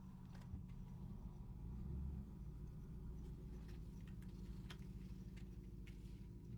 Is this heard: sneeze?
no